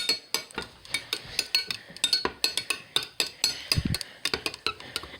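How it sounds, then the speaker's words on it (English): Slime being mixed with a stirring utensil: a quick run of close scraping, clicking strokes against the bowl in an irregular rhythm, fairly loud and with no talk over it. "then you take your stirring utensil, then you mix that in"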